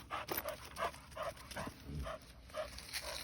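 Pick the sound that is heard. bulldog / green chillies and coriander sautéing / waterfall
bulldog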